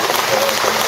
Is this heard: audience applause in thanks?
yes